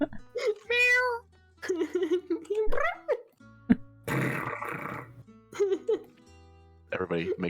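Players at a tabletop game session take turns voicing meows, yowls and growls for an in-game cat, voices imitating a cat in short bursts with pauses and a noisy hiss in the middle.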